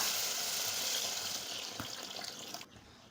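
Tamarind water is poured into a curry pan for a shallot kara kuzhambu, making a steady rushing, hissing splash that runs for a few seconds and then stops abruptly, leaving a quiet sizzle.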